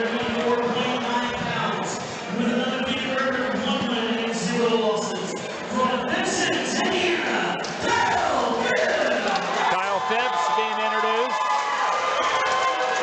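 Crowd at an amateur 185 lb MMA fight at the Stomping Grounds in Terre Haute cheering and shouting steadily, a dense roar of voices with occasional louder yells.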